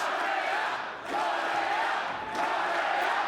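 At a WSW tag team championship wrestling show, the crowd roars for the hometown team in sustained waves of massed cheering, loud and steady with short dips between swells.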